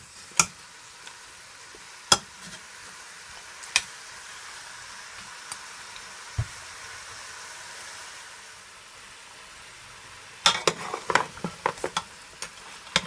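Jamaican oxtail browning in an uncovered pot over medium heat, a soft steady sizzle punctuated by scattered sharp ticks and pops, with a cluster of clinks near the end.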